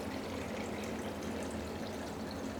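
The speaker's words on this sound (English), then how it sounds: "I'm going to bloom the gelatine by adding cold water." Cold water poured over gelatine in a kitchen to bloom it for a white glaze, a quiet continuous splashing pour that holds steady throughout, heard alone.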